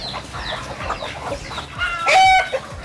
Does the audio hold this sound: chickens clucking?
yes